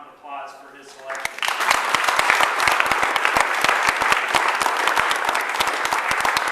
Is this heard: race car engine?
no